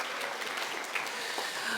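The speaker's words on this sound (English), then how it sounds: "Give yourself a round of applause for coming." Parents and families applauding at a middle school spring orchestra and band concert, a short, steady round of clapping from the crowd with a few scattered louder claps near the end.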